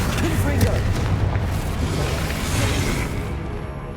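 Confringo spell blasts in Hogwarts Legacy, booming fiery explosions rolling continuously under a loud shouted spell name, with dense rumbling impacts that fade toward the end.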